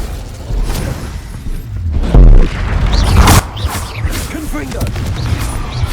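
Incendio fire spell cast in Hogwarts Legacy, a burst of fiery whooshes and heavy booms amid busy combat sounds, with a loud surge partway through.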